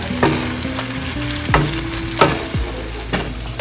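Chopped onion hits hot oil in a pan for a fish curry and fries with a loud, dense sizzle, while a few sharp scrapes of stirring punctuate it, no talk.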